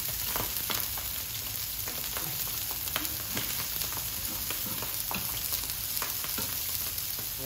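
Onions frying in a pan for a keto bunless burger, a steady close sizzle with scattered crackles and spatter pops running unbroken throughout, no voices.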